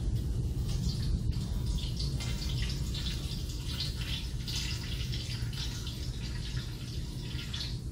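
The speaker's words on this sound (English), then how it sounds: "I decant all that water off of there." Water decanted off a soaked fine aggregate sample during a lab specific gravity and absorption test, heard as a steady close trickle with faint dripping throughout.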